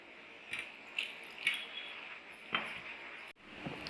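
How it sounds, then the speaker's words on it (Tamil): Water is trickled bit by bit into vegetable bonda dough as it is mixed, giving faint, quiet splashes and soft squishes at irregular intervals, with a short pause near the end. "நம்ம கொஞ்சம் கொஞ்சமாக தண்ணி சேர்த்துப்போம்"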